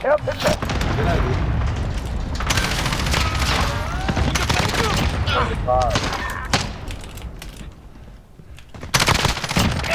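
Airstrike explosions in Call of Duty Warzone land with loud, repeated booms and rapid gunfire, while a player's voice talks over the blasts.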